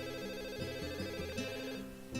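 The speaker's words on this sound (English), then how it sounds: "As a soft ringing gives us a pause, as Lily reaches into her pocket, it becomes obvious that the sound's coming from her phone." A soft phone ringtone in the visual novel game Katawa Shoujo, a repeating electronic melodic trill that plays steadily and without voices.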